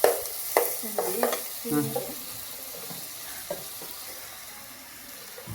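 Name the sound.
chicken frying and sizzling in a pan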